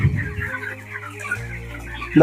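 Broiler chickens clucking in a poultry shed, several birds making close, busy clucks and short calls, with someone talking over them.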